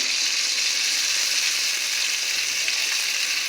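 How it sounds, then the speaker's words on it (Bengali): Pitha frying in hot oil over a medium flame makes a constant, bright sizzle that stays close and even for the whole stretch, with no one speaking. "আর তেলটা গরম হয়ে গেছে আমি পিঠাটা দিচ্ছি"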